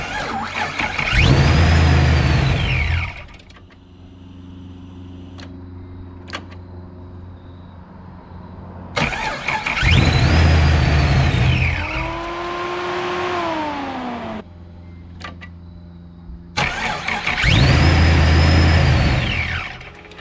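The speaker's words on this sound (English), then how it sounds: "I'm gonna go ahead and try to fire this thing up and see how it sounds now" Supercharged car engine fitted with a ProCharger and a Griptec pulley and hub, running without its mass airflow sensor: three loud revving bursts that rise and fall, with whining pitch sweeps and rough idling between them, recorded close up.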